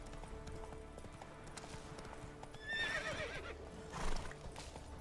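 A horse in The Witcher 3 video game whinnies loudly around the middle, and its hooves clop in a steady clip-clop beneath a game soundscape, with another loud burst near the end.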